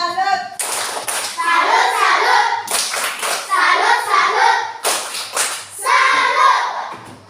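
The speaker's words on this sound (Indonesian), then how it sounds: "Ayo, tepuk salut buat kelompok 1." A class of young primary-school children performs the 'tepuk salut' clapping chant, three bursts of rhythmic group clapping with chanted voices, loud and close, with short gaps between the bursts.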